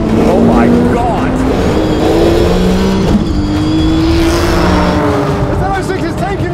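A Corvette Z06, a GTR NISMO and a 1000hp R34 GTR accelerate together in a roll race, engines roaring loudly and rising in pitch through the gears from inside a car, with excited voices over the noise.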